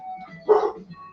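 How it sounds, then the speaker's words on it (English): A single short dog bark rings out in the background, brief and moderately loud over a quiet room with a faint tonal hum. "I gotta have a dog barking in the background"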